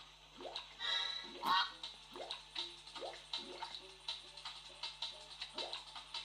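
Squeaky rubber-duck quacks come from the PlayStation 3 game Super Rubber Dub, repeating in quick, uneven chirps with splashy water-like effects, fairly faint and mostly alone.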